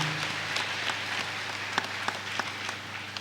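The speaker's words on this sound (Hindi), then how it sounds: "एक जोरदार ताली सब लोग अपने अपने लिए बजा लीजिएगा" Audience applause at a spiritual gathering at Nirmal Dham in Manatu, Ranchi: a broad, steady wash of many hands clapping with a few sharper individual claps standing out, filling the whole stretch at moderate level.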